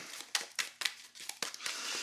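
Playing cards being riffled and shuffled into a deck during a Marvel Champions card game, a series of sharp crisp riffle bursts close by, ending in a longer ruffling flutter, with no voices.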